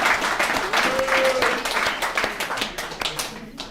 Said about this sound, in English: Let's give Darren another round of applause